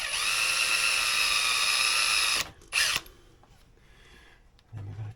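A power drill whines loudly for about two seconds aboard a boat, stops, gives a short second burst, then quiet handling noises follow.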